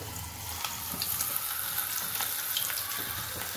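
Bangda mackerel sizzles and crackles in hot oil in a home kitchen, a soft, steady frying hiss with faint pops and no talking.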